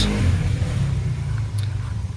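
Engine of a quad ATV running steadily nearby in a yard among old mowers and tractors, a continuous low rumble with slight revving throughout.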